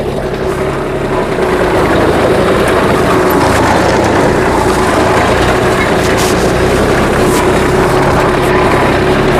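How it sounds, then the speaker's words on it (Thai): Tractor engine droning steadily while driving across a farm field in Thailand, a loud continuous rumbling hum close to the microphone with no breaks. "นี้ไม่ได้เดินนะขับรถไถอยู่นะ"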